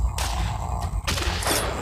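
Rapid gunfire in The Walking Dead: Assault video game, dense overlapping shots firing in quick bursts with no pause.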